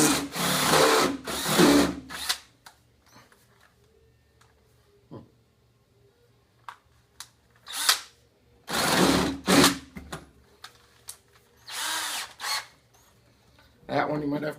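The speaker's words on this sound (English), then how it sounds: "go ahead, drill your hole" A power drill whirs in several short bursts while drilling holes for a raccoon feeder, loud and close, separated by quiet pauses with faint ticks.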